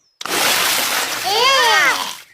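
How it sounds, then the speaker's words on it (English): A cartoon pig leaps into water, making a loud, sustained splash that sprays for about two seconds, with bright whooping cartoon sound effects rising over the tail of the splash. "Daddy Pig has splashed everyone with water."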